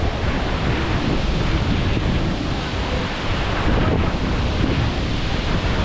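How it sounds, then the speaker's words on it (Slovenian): The Marmore waterfall in Italy gives a loud, continuous roar of falling water heard up close, a dense unbroken rush with wind buffeting the microphone. "največji in najmogočnejši slap v Italiji"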